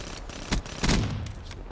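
A Pharaoh burst rifle in Black Ops 3 fires two quick, close bursts a fraction of a second apart over a steady game background.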